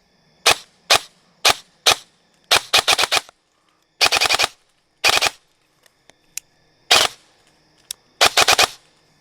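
A KWA MOD 2 airsoft electric gun, upgraded and tuned to be snappy, fires sharp, loud cracks in single shots and quick bursts of three to five, spaced by short silent pauses.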